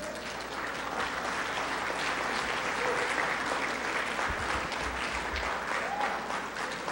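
Sustained, dense applause from a large audience at the 2016 MBC-MAP presidential dialogue, steady and loud for the whole stretch with no break.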